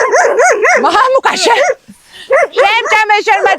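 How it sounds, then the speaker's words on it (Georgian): Dogs at a Georgian mountain herding camp bark loudly and close by in rapid, overlapping bursts, mixed with people talking. "შემჭამე შენმა ძაღლებმა."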